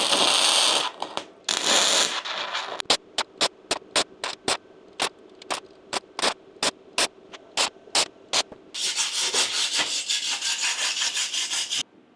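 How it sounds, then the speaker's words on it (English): Gasless flux-core MIG welding with 0.035 wire during repair work on a MechMaxx Mec10 mini excavator. A crackling, hissing arc runs in bursts, then a series of short evenly spaced stitch welds, then a longer continuous bead, with no talk. "when we pull the trigger it comes on, we let go of the trigger it goes off"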